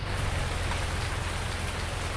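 Steady, dense rainfall drums without pause on a wet day in a farming video game, a close, even wash of drops with a low rumbling undertone.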